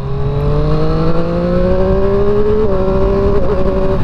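A Triumph Street Triple RS motorcycle engine revs steadily upward through the gears with a quick shifter, its harmonic drone climbing then stepping at an upshift, loud and close with no talk.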